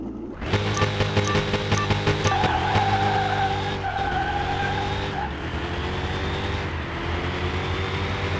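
A Ferrari race car roars in a video game, its loud engine tone shifting with gear changes while tires skid and squeal steadily in the foreground, without any voices.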